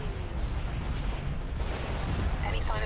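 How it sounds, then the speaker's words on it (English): A starship cannon broadside in Star Wars: Empire at War rumbles as dense, continuous low booming and crackle through the whole stretch, loud and sustained, with a voice faintly present. "Hit him with the cannons. broadside."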